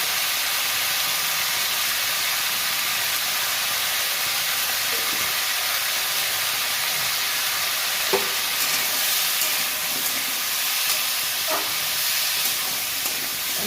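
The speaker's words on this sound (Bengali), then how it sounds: "ভালো করে কষে নেব।" Ground coriander, chilli and cumin powders sizzle in a pan while being stirred and fried, a steady close hiss with a few soft scraping clicks of the spoon and no talking.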